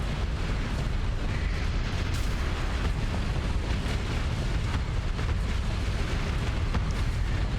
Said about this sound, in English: So just hammering it with the ion cannons. And now it's dead.